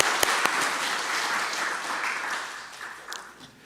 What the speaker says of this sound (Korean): 우리 박수로 환영하시도록 하겠습니다